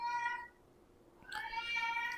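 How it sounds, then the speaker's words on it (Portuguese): A female cat meows loudly and insistently indoors, a few drawn-out harmonic cries separated by a short pause, close to the listener with no talking over them. "agora tem uma gata aqui miando que nem uma descontrolada"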